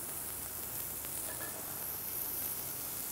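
Carrots sizzle and fry in a little oil in a pot, a steady close crackling hiss throughout with no voices.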